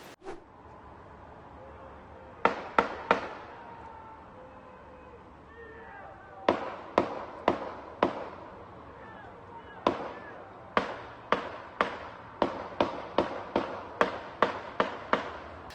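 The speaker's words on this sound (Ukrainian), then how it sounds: "відвідувачі розважалися зі звуками пострілів та вибухами піротехніки" Sharp fireworks bangs go off in scattered bursts at a restaurant party, some in quick clusters of three or four, over a steady background murmur of crowd noise.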